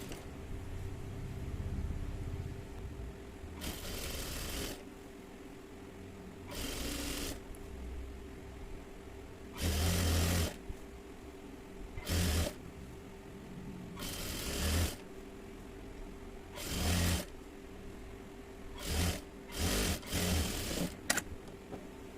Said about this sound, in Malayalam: എന്നിട്ട് ഈ അരികത്ത് കൂടി സ്റ്റിച്ച് ചെയ്ത് പോവാം.